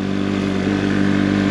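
A motorcycle engine running steadily during a Saturday ride, a loud, close, continuous droning rumble with no talking over it.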